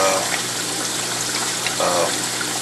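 Aquarium overflow lines draining water into a 20-gallon sump tank: a steady, close splashing trickle and rush of falling water with no break.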